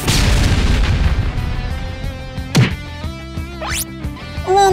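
A robot explodes in an animated Sonic fan series, producing a loud, booming blast followed by whooshes, metallic clanks and crackling debris.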